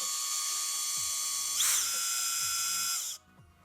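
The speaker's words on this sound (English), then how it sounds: "take your drill, and you're just gonna run it in just like that." A cordless power drill drives a fitting into pipe as a copper-replacement plumbing fitting is installed, whining steadily for about three seconds with a brief load surge midway before cutting off, close and loud with no talk.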